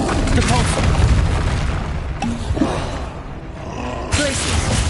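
A Repulsor spell cast in Hogwarts Legacy: a forceful booming burst with roaring blast noise, with further impacts and a sharp whoosh near the end, while a player shouts spell names.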